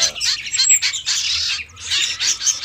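Young songbirds held by a bird seller, among them shrikes, chirp and tweet in a busy, continuous chorus of overlapping high calls, fairly close and loud, with no talk.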